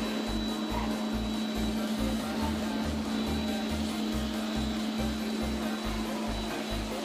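A robot vacuum cleaner runs steadily, with a constant motor hum and a rhythmic low scrubbing pulse from its brushes, close by and without speech.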